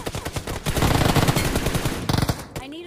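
Dense automatic gunfire in the mobile shooter game PUBG Mobile, rapid loud bursts and rattling shots that continue almost without pause, with a brief break and a few more shots near the end.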